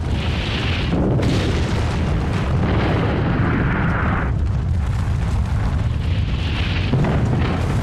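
Atomic bomb blast over a Japanese city in 1945, a sustained deep rumbling roar that swells and surges in waves for several seconds, loud and dense in the low end with no speech.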